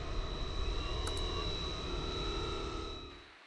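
A radio-controlled PA Ultimate AMR 60 biplane hovering in an inverted Harrier position, its engine a steady, fairly distant drone that holds evenly before fading out near the end.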